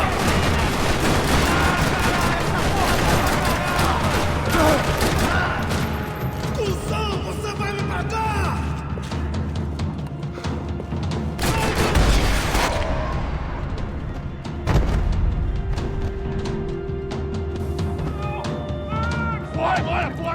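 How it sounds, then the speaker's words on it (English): Rapid bursts of gunfire and explosions crackle through a noisy action scene in Max Payne 3, with voices and music mixed underneath. "Another parking lot rattling with gunfire."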